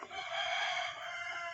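A short, loud crow from a rooster, with its steady bright call held for over a second close by.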